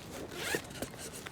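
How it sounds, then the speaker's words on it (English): A zipper on a map document case is pulled open in one quick, close, quiet rasp. "zipper open"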